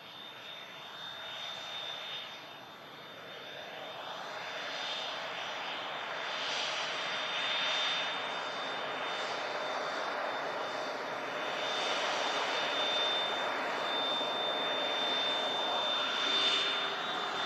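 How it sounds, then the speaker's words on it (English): An airliner at Manchester Airport on a foggy day turns on the ground with thrust reversers retracting, a steady loud engine roar and whine that swells gently and holds throughout. "Reverses just getting retracted there as the aircraft turned."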